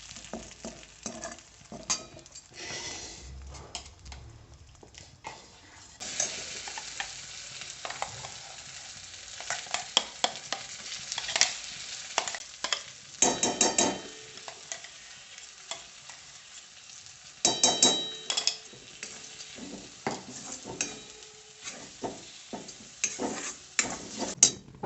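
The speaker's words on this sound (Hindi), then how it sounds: "हींग डाल के हींग का छौंका।" Asafoetida tempering sizzles in hot ghee in a kadhai, a steady close frying hiss with bursts of stirring and scraping against the pan, no talking.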